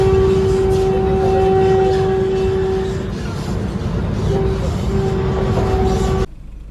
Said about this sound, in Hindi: देख लो गाइस, ये है हमारी आधुनिक वंदे भारत एक्सप्रेस।